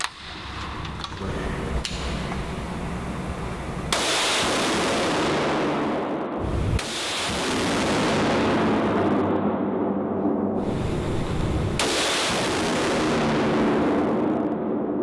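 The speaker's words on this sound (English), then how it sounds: "You shot right through your last hole." Rifle shots are fired at a target during a whitetail hunting trip in Mexico. Three loud, sharp reports ring out several seconds apart, each trailing into a long, booming outdoor echo over steady background noise.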